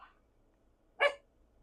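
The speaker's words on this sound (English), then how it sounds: "Now my dog is getting riled up." One short, sharp bark from an agitated pet dog, fairly close, after a faint brief sound, with quiet room background around it.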